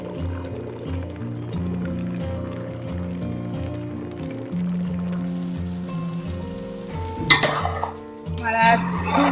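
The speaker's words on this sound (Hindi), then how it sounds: "अब इसको मजीद और थोड़ा पकाएंगे ताकि दूध और खुश्क हो जाए।" Carrots for gajar halwa simmer and sizzle in milk in a pan while being stirred, a steady bubbling hiss with repeated scraping strokes and a louder burst of stirring near the end.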